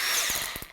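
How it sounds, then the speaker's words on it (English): A cordless power drill with a slip clutch whirs steadily and close, its pitch settling briefly before a few short catches as the clutch slips near the end. "Now we're going to crank it to drill."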